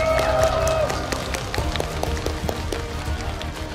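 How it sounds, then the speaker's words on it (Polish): Audience applause follows a battle reenactment staged by a local reenactment group freeing Polish prisoners; a steady wash of clapping and crowd noise fills the whole stretch at a fairly even level, with a few sharper individual claps standing out. "Wielkie brawa"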